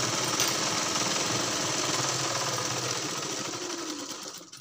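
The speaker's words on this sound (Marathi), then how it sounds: "आता खालच्या बाजूने पण टिप मारून घेऊ" A sewing machine stitches the lower hem of a blouse in a fast, steady mechanical chatter, running continuously up close before slowing and stopping at the end.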